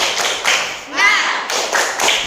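A classroom of students performing the rhythmic tepuk semangat clap, several short bursts of group claps in a patterned beat, with chanted voices in between.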